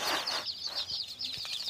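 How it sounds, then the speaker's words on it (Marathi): Backyard hens cluck and chirp in short, fairly loud bursts near the microphone, with an airy rustling wash of background noise behind them. "पण मित्रांनो आपल्या कोंबड्या मस्त आहेत का नाही"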